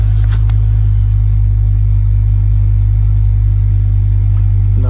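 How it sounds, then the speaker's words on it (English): A car engine running just after its crank position sensor has been replaced, a loud steady low rumble with a few brief higher bursts near the start. "We're going to start up and see if it rectified an issue."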